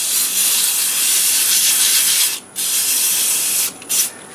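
150-grit sandpaper on a wood turning spinning in reverse on a lathe at about 400 RPM, a loud steady close rasping hiss that breaks off briefly twice near the end.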